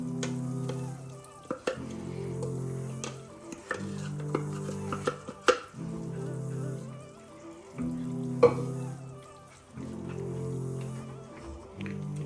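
Beef biryani mixed with nut paste is stirred in a pot, giving repeated scraping and squishing strokes in an irregular rhythm over a low sizzle, with occasional sharper knocks of the utensil against the pot and no voices.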